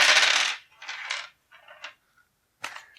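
Dice from the Mansions of Madness board game roll across a hard surface in several sharp, clattering bursts with short pauses between them. The sound is close and no one talks.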